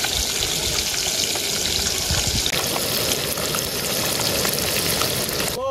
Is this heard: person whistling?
no